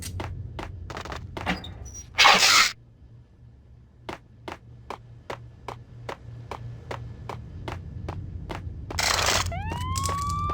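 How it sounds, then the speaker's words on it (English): Police sirens wail in the Max Payne video game while rhythmic sharp clicks and thuds repeat steadily, with a couple of loud bursts of noise and rising tones near the end. "I'm allergic to sirens!"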